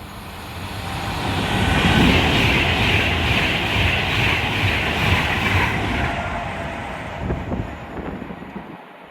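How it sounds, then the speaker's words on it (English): A Class 390 Pendolino passes through Milton Keynes Central on the West Coast Main Line, making a loud, close, sustained roar and rushing hiss that swells and then fades toward the end with no voices. "The next train passing on platform 4 is going to be a Class 390 Pendolino going from Glasgow Central to London Euston."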